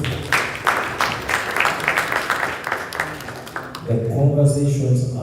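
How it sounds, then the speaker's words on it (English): An audience at a technology forum claps in a burst of applause that runs for several seconds, then gives way to a voice speaking over music or a tone near the end. "A round of applause."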